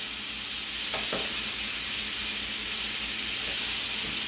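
Shrimp frying in a pan, giving a constant loud, hissing sizzle from start to finish, with a couple of faint knocks of stirring, close up and with no voices.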